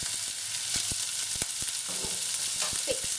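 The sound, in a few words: onions sizzling in a frying pan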